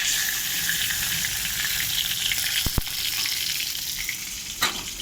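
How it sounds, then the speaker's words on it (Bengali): Cauliflower pieces frying in hot oil, a steady close sizzle throughout with a couple of brief clinks from a utensil. "ফুলকপি ভাজা গেছে, আমি এক এক করে ছেঁকে তুলব।"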